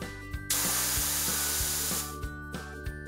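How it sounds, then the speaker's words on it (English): A factory spray gun coats brake pads with paint in one loud hissing burst lasting about a second and a half, while nearby machinery thumps in a steady rhythm before, under and after it. "The integral painting of the brake pad also guarantees resistance to corrosion."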